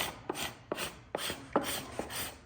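A cabinet scraper rasps across wood to bring an inlay flush, producing five or six short, crisp scraping strokes in an even rhythm, close and fairly quiet with no talking.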